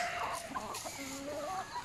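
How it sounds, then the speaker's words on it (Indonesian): Chickens cluck and chatter close by at afternoon feeding time on a small farm, a busy overlapping flock with soft calls throughout. "Ha, tengok ayam."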